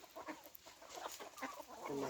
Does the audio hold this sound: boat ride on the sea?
no